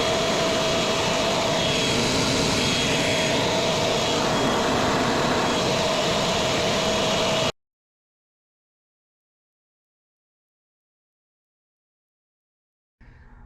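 An EGO 880 CFM battery leaf blower runs on high, a loud steady broadband rush with a sustained whine that cuts off abruptly, leaving silence before a faint sound returns at the very end.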